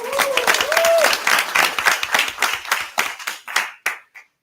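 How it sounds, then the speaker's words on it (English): A round of applause fills a council chamber at a Board of Aldermen meeting, dense clapping from the gathered audience that thins into scattered individual claps and stops. "I know we're giving out a lot of applause"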